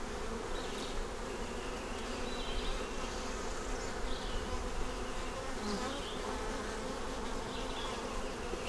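Dense honey bee buzzing fills the air during an open beehive inspection, a loud, continuous droning swarm close around with small shifts in pitch and no talking.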